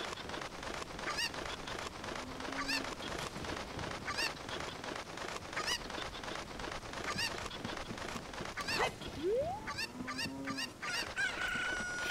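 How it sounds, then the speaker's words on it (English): Repeated chicken clucks and squawks from Zelda: Ocarina of Time sound in a steady rhythm over background game music, growing louder with a sharper cry near the end. "Chicken!"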